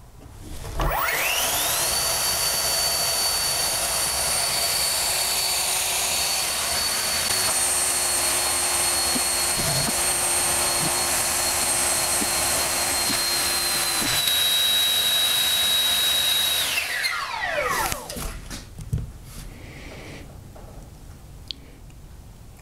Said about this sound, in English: So I'm just going to go full throttle with the throttle lock here.